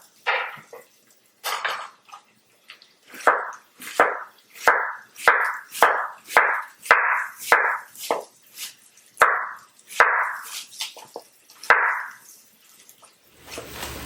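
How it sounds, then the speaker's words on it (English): A knife slices thinly through a cored cabbage, giving a quick run of about a dozen crisp, evenly paced cuts close by. Each slice ends in a sharp tap on the board, with short pauses between bursts and no talking. "take out the center core of the cabbage, thin slices on the cabbage."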